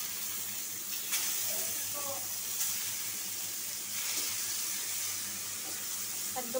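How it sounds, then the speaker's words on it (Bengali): Young ash gourd pieces coated in turmeric and chili fry in a pan with a constant bright hiss and sizzle, and a few faint clinks and stirring sounds come through. "এই যে আমি সেই জালি কুমড়াগুলো কাইটা হলুদ মরিচ দিয়ে মাইখা রাখছিলাম 10 মিনিট, এখন ভাজি করে নিব।"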